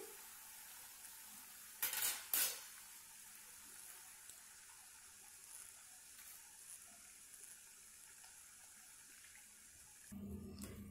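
Besan sev frying in hot oil in a kadai, a faint, steady sizzle throughout, broken by a couple of sharp metallic clatters early on and another near the end.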